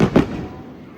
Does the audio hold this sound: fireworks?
yes